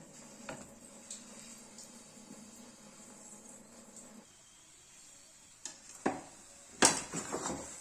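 A chandan kath or palo pitha mixture is stirred quickly in a kadai, giving faint, steady scraping that turns into a few louder clanks and scrapes near the end, with no talking.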